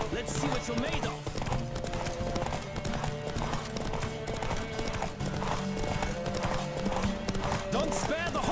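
Horse hooves clip-clop at a steady gallop in The Witcher 3, a continuous rhythmic pounding under game music, with a voice speaking over it.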